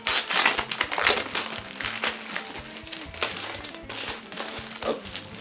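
Plastic press-stud pouches being handled and snapped open, with close crinkling and crackling of the plastic film and several sharp clicks of the studs releasing, steady throughout with no talk.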